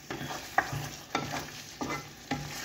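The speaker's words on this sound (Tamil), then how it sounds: "இடையில கிண்டி விடுங்க." Chicken rendang frying in a pan, stirred with a utensil in four evenly spaced scrapes over a soft, constant sizzle, close and fairly quiet.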